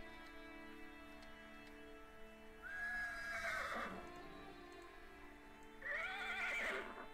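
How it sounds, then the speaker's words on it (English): A horse in a Minecraft modpack whinnies twice, loud and shrill, with a quiet steady hum and a few faint ticks between the calls. "Let's get away from the loud horse."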